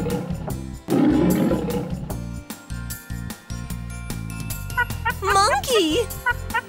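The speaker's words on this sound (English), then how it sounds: "A lion! That's right!" A lion roars loudly over playful children's music, with jingling and chiming tones running alongside and a bright melodic flourish near the end.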